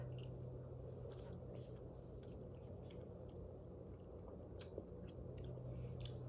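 Quiet, close chewing and soft squishing of mint protein ice cream with sugar-free chocolate chips, made in a Ninja Creami. A few faint crunchy clicks sound over low background hum.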